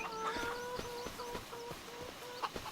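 Chickens cluck and chirp around a coop with nesting boxes and roosting stands in the video game Farming Simulator 25, a steady low layer of soft clucks with no talk.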